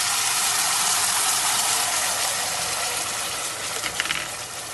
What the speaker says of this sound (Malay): Kita masukkan semua ke dalam minyak yang panas kita ni.